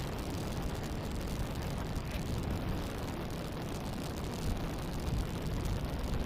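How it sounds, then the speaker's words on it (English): A stock 750kv electric motor drives an FMS Pilatus PC-21 RC model plane in flight, a loud, dense, unbroken whine and roar holding steady for several seconds. "Yeah, that motor is loud"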